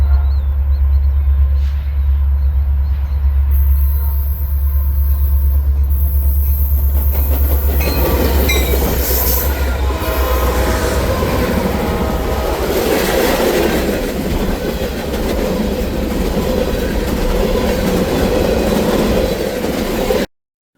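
A CN freight train on the Champaign Sub in Illinois rolls past close by, with a steady low rumble, rising wheel clatter and rail noise that swells in the second half and continues to the end.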